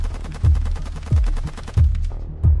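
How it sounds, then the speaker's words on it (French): Gunshots ring out as a gunman fires at a gendarmes' vehicle, four heavy reports spaced roughly evenly over a couple of seconds, loud and booming with ringing tails. "Cherif Kouachi sort alors du bâtiment et tire sur leur véhicule"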